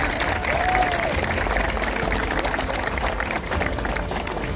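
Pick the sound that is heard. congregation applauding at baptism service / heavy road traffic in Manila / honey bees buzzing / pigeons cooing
congregation applauding at baptism service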